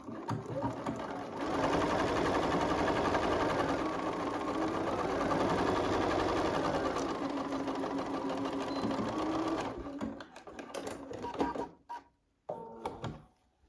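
A sewing machine runs a continuous quarter-inch seam on a quilt block, a loud, close, steady whirring rattle for several seconds before stopping, followed by a few clicks and handling noises.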